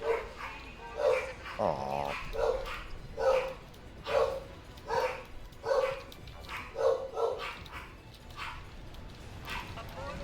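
Dog barks repeatedly in a steady rhythm across the whole stretch, sharp yaps and a brief whimper mixed in, with a person speaking briefly over the barking during gameplay commentary.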